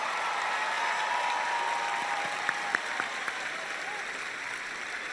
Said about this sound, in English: Please, everyone, give her a big round of applause because she came all the way from Colombia.